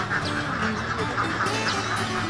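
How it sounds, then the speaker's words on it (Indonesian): A flock of ducks in a rice paddy at Padamukti, Garut, quacking continuously in a dense overlapping chorus, close and fairly loud throughout. "Aku bertugas untuk memberi makan bebek dan angon bebek di sawah"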